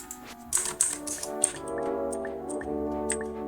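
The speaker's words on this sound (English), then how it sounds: "I'm clicking, but the screen's not changing." Mouse clicking during play of the cell evolution game Cell, a string of light, sharp clicks scattered over a continuous tonal game soundtrack, some clicks close and distinct, others fainter.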